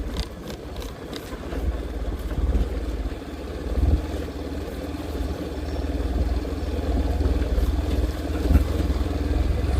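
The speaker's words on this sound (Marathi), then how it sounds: "थोडा स्लोप असल्यामुळे गाडी इंजिन ब्रेकिंगवर कंट्रोल करावी लागते" Motorcycle engine running steadily on a downhill road through dense forest, a continuous low rumble that swells a little as the bike descends, with no voices over it.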